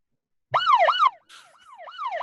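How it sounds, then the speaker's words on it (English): A siren sound effect triggered by a button plays a wailing, rising-and-falling electronic tone in two short bursts, loud and clear with nothing else behind it. "Push the siren button."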